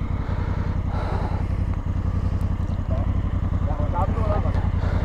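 A motorcycle engine with pizzas bungeed to the back, running loud and close with a steady throbbing rumble throughout, while a person talks over it.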